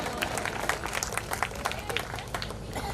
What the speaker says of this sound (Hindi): उसके लिए एक बार जोरदार तालियां सभी दादाजियों के लिए हमारे ओर से बनती है।